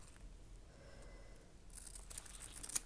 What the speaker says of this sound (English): I'm just going to cut it off down there.